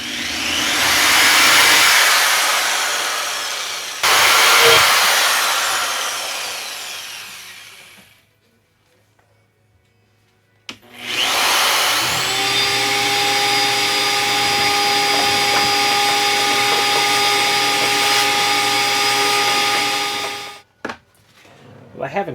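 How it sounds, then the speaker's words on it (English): Power drill countersinking 1/8-inch threaded holes, stepped to 3/16, while flush-mounting electronics on a boat; two loud sustained bursts of whining drilling separated by a short pause, with a brief clatter at the end. "we're just going to slightly countersink the holes"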